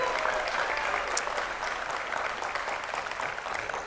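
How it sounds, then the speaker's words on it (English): A room full of people at a college commencement claps steadily and warmly, sustained applause at an even level throughout with no speech over it. "how about a round of applause for Joanne Crew"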